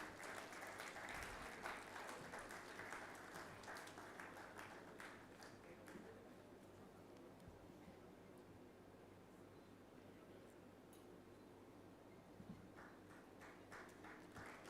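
Sustained round of audience applause at a national mining ministers' conference, a dense steady patter of many hands filling the hall, fairly distant and even in level, swelling briefly again near the end.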